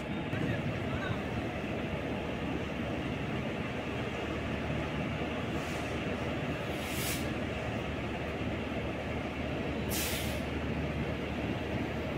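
A Cheran Superfast Express from Chennai Central, hauled by an Erode-shed WAP-7 electric locomotive, rumbles along in a continuous onboard roar of wheels and carriages, with a voice talking over it.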